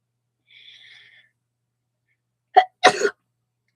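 A soft breathy hiss, a pause, then a short sharp burst followed by a louder explosive sneeze, close by.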